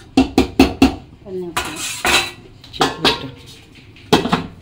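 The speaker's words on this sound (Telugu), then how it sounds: "మూత పెట్టేస్తాను" A metal lid clatters onto a pot of biryani topped with coriander, preceded by a quick run of four sharp metallic clinks, then a few heavier clanks and scrapes, close and loud with no talking.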